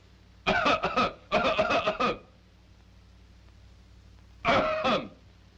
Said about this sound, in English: do not interfere with my coughing